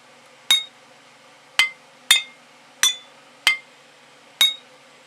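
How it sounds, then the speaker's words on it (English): Six short glass clinks from a breakable bottle asset pack for Unreal Engine 4.27, struck alone at uneven intervals, each a sharp, bright tap with a quick ring-off. "it will play a series of noises. So there's a bunch of glass bunks."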